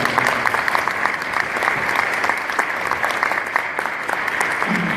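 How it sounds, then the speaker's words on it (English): A conference audience at a townhall-style session breaks into a round of applause, many hands clapping steadily and fairly loud for the full stretch. "Peter, Rand, and Barry, let's give them a round of applause."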